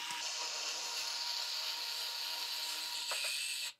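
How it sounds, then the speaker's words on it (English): A small power driver hums steadily as it drives screws to mount an Aqara Light Switch H2 EU into a wall box, a continuous close whir that stops abruptly after a brief rattle near the end. "Inside the box, you have these two wonderful screws, so we can go and start by screwing these in."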